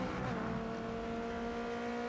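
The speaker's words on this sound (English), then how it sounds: "Every tire squeal, every engine, lap after lap." Forza Motorsport race cars roar at speed in a continuous, loud engine drone with a sustained tire squeal layered over it, close and unbroken.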